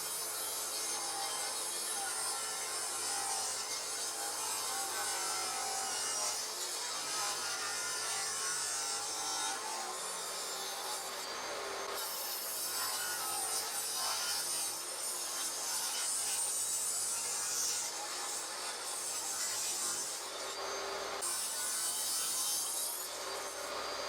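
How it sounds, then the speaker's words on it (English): Table saw ripping pine boards into strips, the fence set to a fixed thickness; a loud, steady, continuous cutting roar with rasping wood noise runs throughout, with brief dips between passes. "ripped the pine into strips with the table saw fence set to the same thickness as the pieces of teak"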